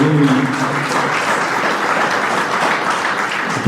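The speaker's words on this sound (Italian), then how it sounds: "un applauso a lui." Audience applauding in a conference hall at a gathering on the Friuli earthquake, a dense, steady wash of many hands clapping at moderate distance, with a brief voice at the very start.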